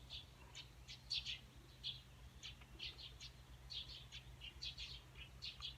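A small light-brown bird with green wings sings in short, high chirping bursts, repeated irregularly and fairly close but quiet, over a low steady background hum.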